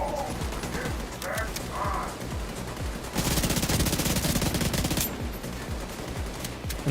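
Assault rifle fire in the shooter game The Division 2 comes as rapid, rhythmic bursts of shots. The fire grows denser and louder for about two seconds in the middle, and faint game sounds run underneath.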